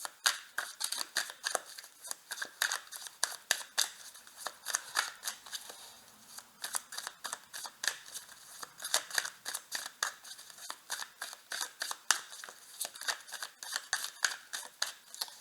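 Rapid, crisp riffling of tarot cards being shuffled, a close, busy stream of papery flicks and snaps in quick bursts, with no talking.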